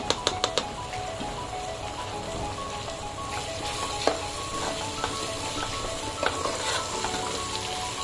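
Mixed vegetables with garam masala sizzle and fry steadily in a pan, a close, continuous crackle with a few sharp spoon taps and scraping stirs against the metal.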